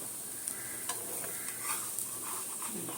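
Oil sizzles steadily in a pan while pitha made from Gobindobhog rice with mung and chana dal cooks. A soft hiss runs under several light clicks and scrapes of stirring, close and moderately quiet, with no voices.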